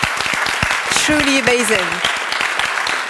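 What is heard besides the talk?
audience applause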